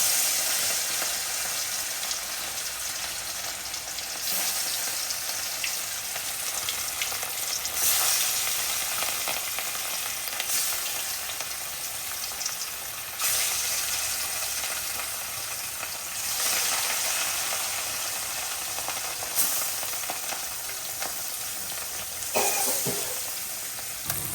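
Rohu fish pieces frying in a kadai of hot oil, giving a steady, loud broadband sizzle that runs throughout, with occasional stirring clinks and no voices.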